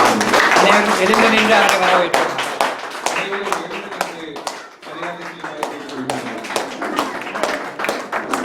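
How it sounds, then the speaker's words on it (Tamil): An audience claps at a Tamil appreciation ceremony as the guest of honour, a social worker, is called to the stage; loud scattered clapping under an announcer's voice, thinning out partway through. "இந்த விழாவின் நாயகன் திரு ஜமால் சேட் அவர்களை உங்கள் கரகோஷத்துடன் மேடைக்கு"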